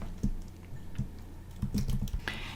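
Fingers typing a question into a Canva form on a computer keyboard, a short burst of close, soft key clicks in an uneven rhythm with no voice.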